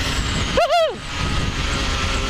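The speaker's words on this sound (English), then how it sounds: "This is a two-stroke. It's an hilarious two-stroke." A Yamaha RD125LC mk1 two-stroke motorcycle gives a quick throttle blip, its pitch surging up and dropping back within a split second over a steady background rumble, close by.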